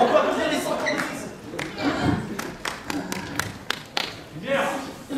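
Applause and scattered clapping from an improv match audience, with thumps and taps rising and falling over about five seconds, mixed with crowd chatter and voices.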